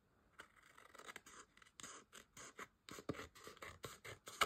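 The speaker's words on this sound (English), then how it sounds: "I'm just going to snip this again." Scissors snipping paper while making a Christmas card, a close series of quick crisp cuts that speed into a steady rhythm of short sharp snips.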